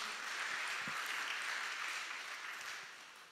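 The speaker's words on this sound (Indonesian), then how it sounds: "Boleh berikan tepuk tangan buat Tuhan Yesus" Congregation clapping during an Easter service at an Indonesian church, a faint but steady wash of applause that holds for a few seconds and then tapers off.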